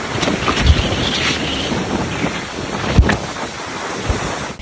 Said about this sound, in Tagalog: Dinig din ang pagsipol ng hangin sa Batan Island.